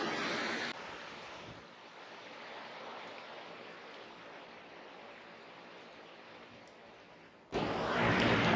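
Surf washing onto the beach at Mandarmani, a steady broadband wash with wind noise on the microphone, louder bursts at the start and end and a softer, even roar through the middle.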